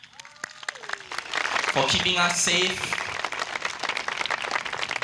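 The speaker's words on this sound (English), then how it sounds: "can I please request for everyone to give a huge round of applause to the police" A crowd at an SPP political rally in Bishan Stadium breaks into loud applause for police officers on duty, swelling right after a brief spoken phrase and staying sustained, with a voice still faintly audible beneath it.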